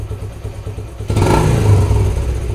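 A Bajaj Platina motorcycle idles close by, then jumps to a louder rev under light throttle at about one second and holds there, a rough, buzzing single-cylinder note.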